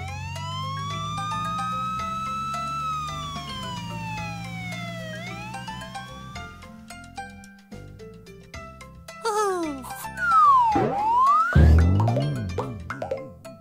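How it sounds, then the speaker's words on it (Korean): A police car siren in a children's cartoon rises and falls in a few swooping wails over playful music, fairly loud, with cartoon pops and slides around it. "경찰차"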